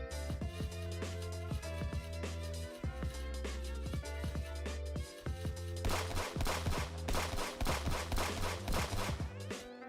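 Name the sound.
gunshots from a Unity3D penguin video game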